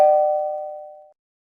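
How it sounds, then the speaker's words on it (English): A single electronic doorbell chime rings out clearly, a pure sustained tone that fades away after about a second, followed by silence. "Who's ringing the bell?"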